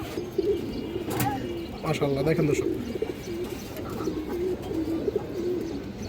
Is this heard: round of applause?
no